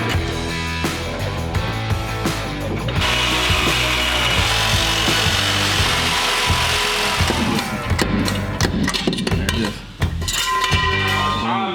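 A sawzall reciprocating saw cuts through metal on a 1967 Chevrolet K20 4x4 truck, a loud, continuous buzzing rasp lasting about ten seconds with a short pause near the end.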